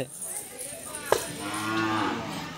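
A cow lets out a loud, drawn-out moo while being restrained for vaccination at a veterinary hospital, the call rising and sustained for over a second amid background commotion.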